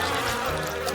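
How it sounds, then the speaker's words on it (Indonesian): Bees swarm around a honey harvest, giving a steady, dense buzzing drone throughout the short moment, close and continuous with no talk. "Tidak, itu banyak sekali lebah."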